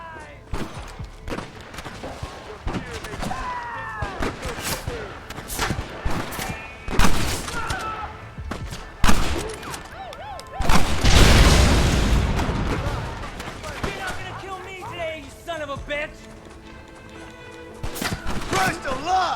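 Gunfire in the Western game Red Dead Redemption, a run of sharp close shots and bursts with a big explosive blast midway, mixed with game music and someone talking over the action.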